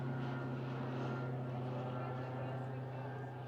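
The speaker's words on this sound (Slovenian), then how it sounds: "To so zdaj tele jadralniki, imajo noter motor." A motor glider's engine drones steadily overhead with a continuous low hum, heard from the ground at a field radio station while people talk nearby.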